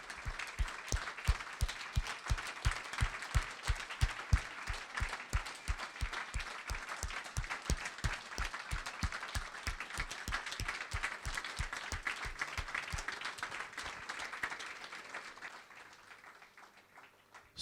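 Gala audience applauding at an anniversary celebration: sustained, even clapping from a sizeable crowd heard from a distance, holding steady for most of its length before thinning out and fading at the end.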